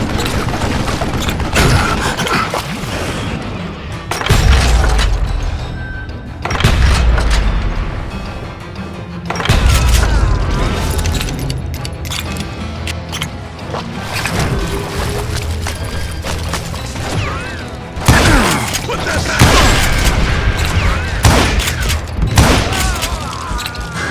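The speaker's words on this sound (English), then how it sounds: "a fusillade of bullets come raining down from on high" Loud, repeated gunfire in the western shooter Call of Juarez: Gunslinger: heavy booming shots and sustained volleys of bullets crash in bursts for the whole stretch, with clattering impacts between them.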